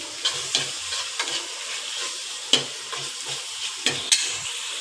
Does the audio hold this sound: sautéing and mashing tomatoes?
yes